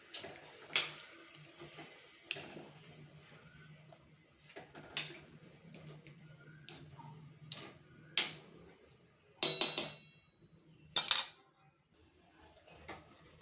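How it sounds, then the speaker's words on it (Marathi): Potato curry is stirred in a pot after water is added, giving a sparse series of light metallic clinks and taps of a spoon on the vessel, with a few louder scraping bursts near the end. "आता हे मिक्स करून घेऊयात."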